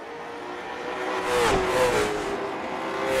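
Late model stock cars race at Oxford Plains in the iRacing game, engines droning steadily as one car closes and passes, its pitch bending and swelling briefly before settling back to a steady hum.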